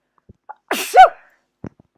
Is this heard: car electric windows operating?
no